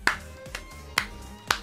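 Four sharp hand claps, slow and evenly spaced, close and fairly loud.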